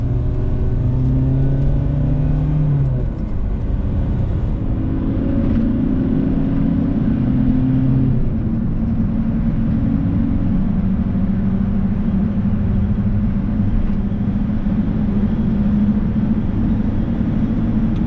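A VW T5 1.9 TDI long-wheelbase high-roof camper van's diesel engine drones steadily while driving, a continuous low rumble with slight rises and falls in revs and road noise, no voices.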